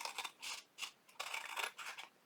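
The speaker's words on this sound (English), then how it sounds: "we're going to take our scissors and we're going to just cut right around" Scissors snip through decorative paper around an envelope flap, a close, quiet series of crisp cutting strokes in an uneven rhythm of about six short bursts, with no talking.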